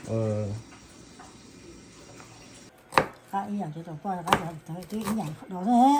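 Shallots being chopped on a board for a Hmong fish dish, a few sharp knife strikes standing out amid close conversation and kitchen chatter.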